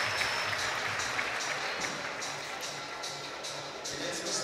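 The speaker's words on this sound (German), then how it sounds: "Das Publikum freut sich über viele Tops, auf jeden Fall." Audience applauding at an indoor bouldering competition, the sixth Deutschland Cup in Nürnberg, a steady wash of many hands clapping at moderate distance with a commentator talking over it.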